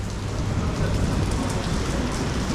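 Steady, loud rain falls in a Macau courtyard, a dense continuous hiss of drops on hard surfaces from start to finish.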